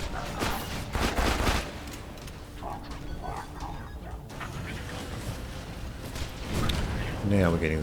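Rapid bursts of gunfire from the Herald gun in Borderlands 2 during a raid on Digistruct Peak, crackling repeatedly through a busy mix of game effects, with a speaking voice over parts of it.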